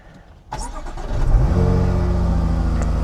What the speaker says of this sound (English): V6 supercharged. Started right up.